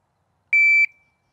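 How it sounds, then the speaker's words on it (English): Two short, sharp electronic start beeps from a shooting-range shot timer at the same high pitch, the second trailing into a brief ringing tone, loud and close against silence. "the next thing the competitor will hear will be the electronic beep"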